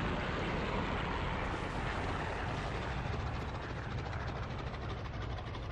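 A WWII-era aircraft engine in the IL-2 1946 flight sim, taxiing off the runway with a steady broadband drone close up and no voices.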